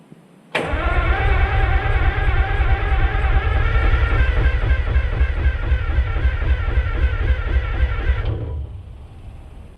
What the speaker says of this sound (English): I'm going to add a little laughing gas here and give it a crank over,